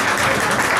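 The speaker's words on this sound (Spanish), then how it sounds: "Sí, podemos aplaudir." Audience applause at a science talk held in a pub, a brief dense wash of many hands clapping at once, steady and fairly loud throughout.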